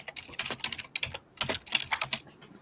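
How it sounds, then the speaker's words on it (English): Someone types rapidly on a computer keyboard nearby, bursts of crisp clicking keystrokes separated by brief pauses, with no talking over it. "I didn't hear you over Becky's keyboard."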